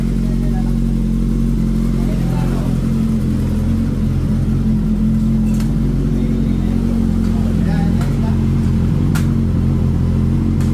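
Suzuki GSX 1000 motorcycle engine running loud and steady through its silencer, a deep continuous rumble with slight revving swells, people talking faintly underneath.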